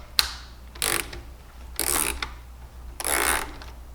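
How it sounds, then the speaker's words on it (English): Ratcheting chuck clicking in several short bursts while tightening wires on a handmade wooden A-rig fishing lure, close and crisp with brief pauses between turns. "You need a ratcheting chuck"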